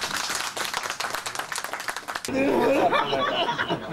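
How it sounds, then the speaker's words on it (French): A studio audience on a Gabonese TV talk show gives a burst of dense, close clapping, then the applause gives way to laughter, chuckles and overlapping talk. "Donc on l'applaudit quand même d'être arrivé."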